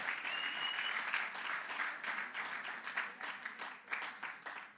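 A church congregation claps together in applause for the Lord during a Spanish-language service, a fairly soft, steady patter that thins slightly toward the end.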